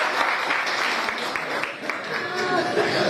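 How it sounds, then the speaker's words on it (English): Audience applause fills a ceremony in Somaliland where health workers receive certificates, a steady dense clapping that runs throughout with a voice heard over it. "A clap for me, please."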